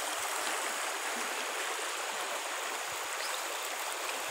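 An overflowing creek in Brazil's dry sertão, swollen by June rains, rushes past in a steady, close, broadband wash of flowing water, unbroken and without voices.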